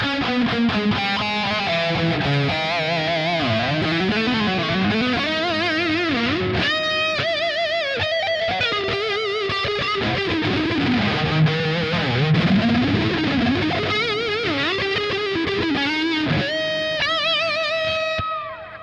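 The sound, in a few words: guitar through Blood reverb in JST Toneforge amp sim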